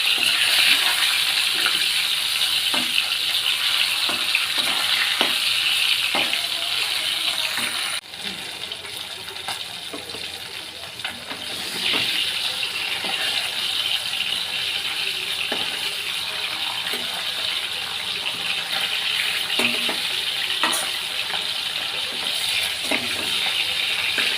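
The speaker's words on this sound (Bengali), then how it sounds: "ভালো করে ভাজতে মাছ ভাজা হয়ে গেছে" Pieces of pona fish frying in hot oil in a pan give a loud, steady sizzle that runs throughout, with occasional soft clinks of stirring and no talking.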